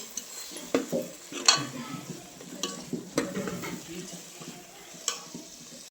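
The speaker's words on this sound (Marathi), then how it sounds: "शेवट डाळ टाकून आधी व्यवस्थित सगळं मिसळून घेते" Dal being stirred and mixed in a pot, heard as soft, intermittent scraping and clattering strokes with a few sharper knocks against the metal, close and at moderate volume.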